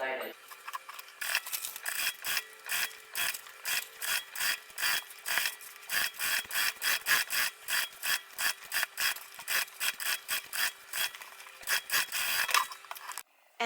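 A sewing machine stitches around a guitar handbag, giving a close, rhythmic series of rasping bursts that repeat steadily for over ten seconds before stopping.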